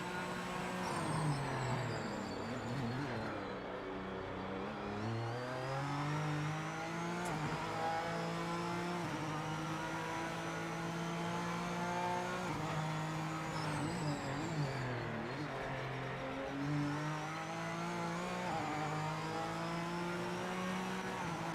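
Honda NSX GT3 race car engine in a PS5 racing game, revving hard through repeated upshifts and downshifts, the pitch climbing and dropping in cycles over a steady loud drone with occasional tire noise.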